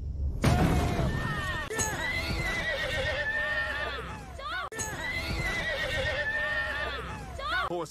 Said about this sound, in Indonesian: Lucky mendengar suara kuda dari luar, yang ternyata berasal dari gudang sewaan